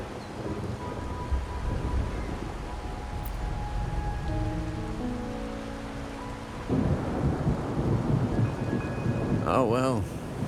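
Rain pours steadily on a rainy night in a video game, with rolling thunder rumbling underneath and a louder surge of downpour partway through, soft music tones drifting over it.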